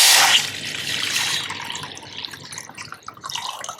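Tap water running into a pot for making Parsi chai, a loud close gush at first that settles into a steady splashing fill with small drips, no talking.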